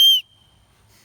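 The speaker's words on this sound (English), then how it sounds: "Oh, and then is it a whistle?" A single sharp, high blast from a survival kit whistle, loud and close, cut off after a fraction of a second, followed by near silence.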